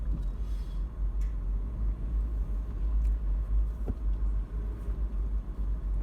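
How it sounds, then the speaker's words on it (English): A free propane-powered Island Explorer bus runs with a steady, low, muffled engine rumble that holds throughout at moderate distance, with faint scattered clicks. "These are the free Island Explorer buses that run on propane."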